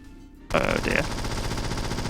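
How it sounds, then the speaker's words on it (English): Automated turret firing a machine gun in James Bond 007: Nightfire, a sudden burst of rapid dense gunfire that starts abruptly and keeps going steadily, loud and close. "An automated turret there that does more damage than almost any of the guards ever will."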